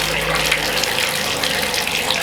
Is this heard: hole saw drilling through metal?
no